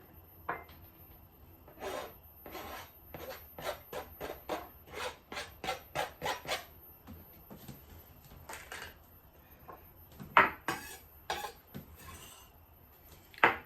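Minced garlic is scraped into a small jar with a utensil, making a series of quick, quiet scraping and tapping strokes in an irregular rhythm, with a couple of sharper clinks near the end.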